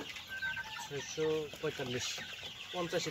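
Several short clucks from a Sonali chicken close by as it is caught for weighing, with people talking over them.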